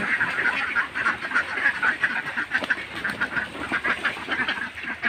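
A flock of farm ducks, just let out of their shed toward a pond, quacks continuously, many overlapping calls forming a dense, busy chatter at moderate volume.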